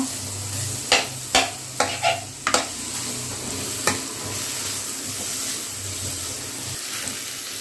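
Mushrooms fry in a pan for a restaurant-style curry, a steady sizzle running underneath while a utensil scrapes and stirs in a cluster of sharp clacks early on, then the frying hiss continues alone.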